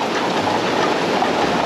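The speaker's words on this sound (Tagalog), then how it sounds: "Sana ulan lang, walang kasamang hangin." Rain falls steadily in the Philippines, a dense, loud, even hiss of drops pattering on surfaces close by, continuous through the short stretch with no voices.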